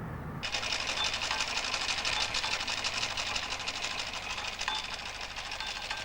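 A sewing machine runs steadily in a 1970s British comprehensive school class, a continuous close mechanical whir with a fast stitching rhythm that starts abruptly and holds at an even level throughout.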